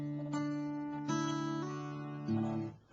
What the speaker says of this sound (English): So very slowly, sounds like this.